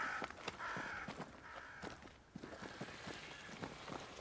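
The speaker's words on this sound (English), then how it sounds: "Crows. They flock to that great tree up there." Crows cawing in the video game Banishers: Ghosts of New Eden, a steady run of sharp, repeated calls over ambient game sound, with faint footstep-like taps underneath.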